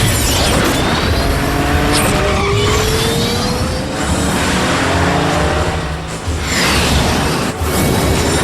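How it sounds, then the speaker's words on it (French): A cartoon race car speeds along with loud, continuous tire squeals and skidding, close and intense throughout with repeated screeching swoops, heard alone without voices. "Hé, c'est la voiture de Fanzone."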